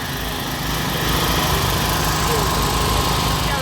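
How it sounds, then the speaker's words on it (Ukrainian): Steady engine drone of running generators on a Lviv street in the evening fills the air, a constant buzzing rumble with no breaks, loud and close. "Генератори."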